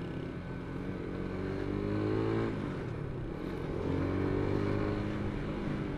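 A motorcycle pulls hard in second gear, its engine droning close and loud with a rising, strained pitch that climbs, eases slightly, then builds again.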